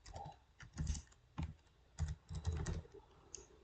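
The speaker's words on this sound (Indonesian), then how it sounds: "langsung saja saya akan mengetik query-nya" Keys on a computer keyboard are struck in quick, uneven bursts of close, crisp clicks with short pauses between them, with no voices present.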